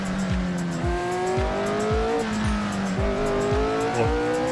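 A Can-Am race car in Assetto Corsa slides under throttle, its engine howling at high revs and rising and dipping in pitch with a steady series of repeating gear-like thumps, loud and close with no talk.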